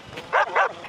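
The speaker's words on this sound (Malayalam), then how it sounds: "ഒരു നായ് വരയ്ക്കണ സൗണ്ട് ഞാൻ കേൾക്കുന്നുണ്ട്." A dog in a horror video game gives two quick, sharp barks close together, fairly near and clear, with a fainter yip after them.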